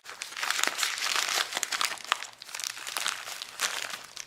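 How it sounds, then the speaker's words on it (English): A roll of one-inch self-adhering first aid tape from a medical kit is handled up close, giving continuous dry crinkling and crackling with small irregular peaks, with no talking. "a 1 inch by 15 foot roll of, this is that type of tape that sticks to itself"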